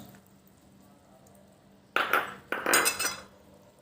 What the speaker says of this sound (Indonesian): Lalu kita masukkan santan.